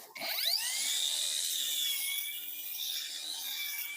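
A cordless brushless battery grass trimmer's high-pitched electric motor whirs up quickly and keeps spinning at a steady, loud whine, with a brief low thump at the start.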